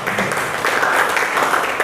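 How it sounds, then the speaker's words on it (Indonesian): Classroom students clapping together after a group presentation, a dense, steady burst of applause that fills the short moment. "Tepuk tangan dulu"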